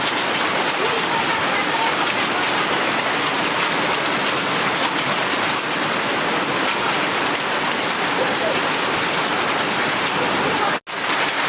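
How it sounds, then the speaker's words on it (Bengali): Heavy hail pours down in Sherpur district, Bangladesh, as a dense, continuous roar of pelting ice that stays loud and steady until a sudden break near the end. "এত হিল পড়তেছে, এত তো আমাদের শেরপুর জেলায় কিছু থাকবে না।"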